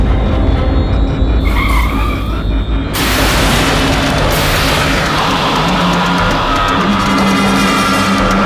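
A car on a night highway brakes hard and skids, its tyres hissing and squealing loudly as the vehicle slides to a stop. The engine rumbles steadily underneath with no talk.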